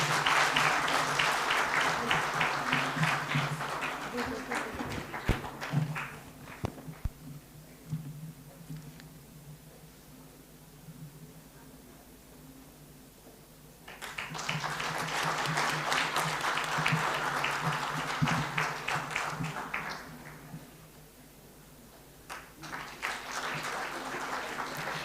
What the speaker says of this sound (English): Can we all give big round of applause?